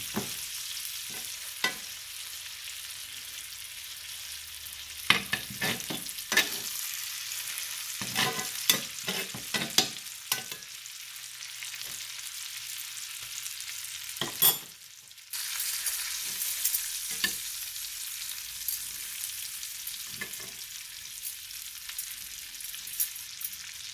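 Beefsteak fries in garlic butter with a steady soft sizzle, broken by frequent sharp spatters and pops, and a louder burst of crackling partway through.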